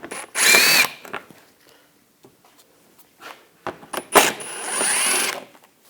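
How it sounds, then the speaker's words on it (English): Power tool with a 7 mm socket backing out screws on a 2013–2022 Buick Encore, two short whirring bursts separated by light handling clatter and clicks, close and loud. "Using a 7mm socket, take these screws out."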